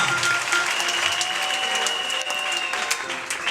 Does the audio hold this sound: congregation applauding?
yes